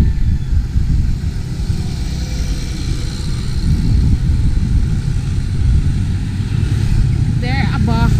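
Traffic on the First Mactan Bridge in Cebu, Philippines, vehicles climbing the span in a loud continuous low rumble with wind buffeting, heard close up from the walkway, with a brief voice near the end.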